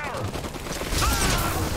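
Gunfire from units in the video game Iron Harvest, a dense crackling fusillade of rapid shots with explosions under it, loud and continuous throughout.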